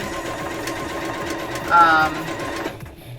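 A sewing machine stitches through paper in a steady mechanical whir with a brief louder burst partway through, close by.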